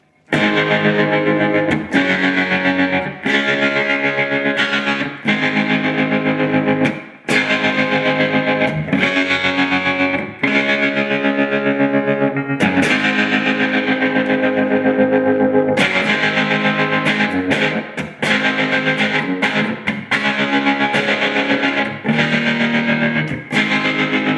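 Electric guitar played through a JK Pedals Baby Doll Deluxe tremolo pedal set near its fastest speed, loud, dense distorted chords pulsing in rapid choppy waves, with brief gaps between strummed passages and no talking.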